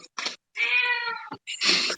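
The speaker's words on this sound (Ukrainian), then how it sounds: "Кіт мені підказує." A cat meows in a quiet room, three short calls with a longer drawn-out meow in the middle, close and clear with gaps of silence between them.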